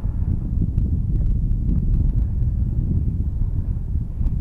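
Wind blows over a lake outdoors as a steady low rumble buffeting the microphone, with faint scattered ticks and no speech.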